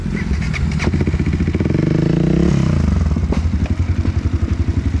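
A dirt motorcycle pounds over a rough, potholed trail, its engine droning loud and close with shifting revs while the chassis and suspension clatter over the bumps.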